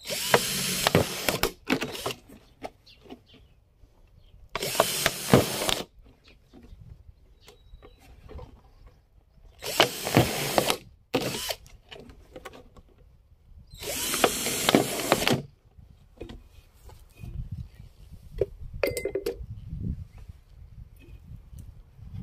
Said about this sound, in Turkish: Dört tane delik deleceğiz şişenin çevresine.